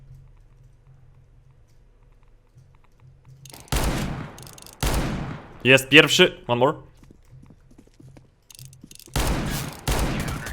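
Gunfire in a competitive video game match, sharp broadband bursts arriving in a few separate clusters between stretches of quiet, with someone talking over some of the shots.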